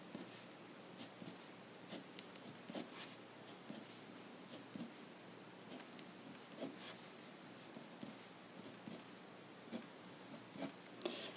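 Marker or chalk writes math on a board in faint, quiet strokes. Soft scratching and tapping come in irregular bursts, with no voice over them.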